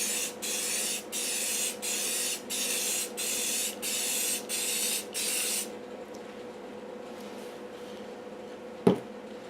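Rust-Oleum clear spray paint hisses from a rattle can in about eight short, even bursts with brief gaps, loud and close, then stops and leaves quiet room tone broken by one sharp knock.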